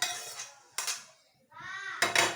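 Dry-fruit laddu mixture is tipped into a bowl with a few bright metallic clinks and scrapes of a spoon against the bowl, coming in short, close bursts.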